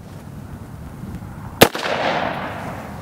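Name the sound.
AR rifle gunshot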